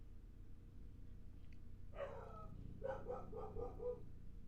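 Dog barks faintly in the background, a short whine followed by a quick series of about five yapping barks over a low steady hum.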